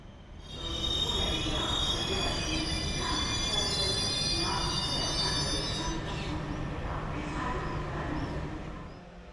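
A train in Morocco running on rails, with a long rumbling roll and high metallic wheel squeal ringing over it. It stays loud and close for most of the clip and then eases off near the end.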